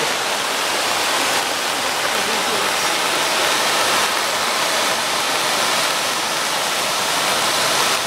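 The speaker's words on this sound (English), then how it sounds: "Look at the waterfall. So freaking cool." Turner Falls waterfall in the rain, a steady, dense roar of rushing, splashing water that holds constant and fills the whole stretch, loud and close with no pauses.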